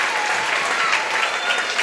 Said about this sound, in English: So everyone at home, give them a round of applause